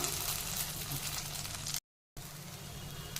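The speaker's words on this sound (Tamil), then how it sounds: "ஊற்றிட்டு 1 கரண்டி அளவுக்கு நம்ம மாவு எடுத்து ஊற்றிட்டு சுற்றிலும் நம்ம எண்ணெய் ஊற்றி மூடி போட்டு நம்ம வேக வச்சு எடுத்துக்கலாம்" Bun dosa batter frying in oil inside a covered kadai, a steady close sizzle that cuts out briefly and then resumes just as strongly.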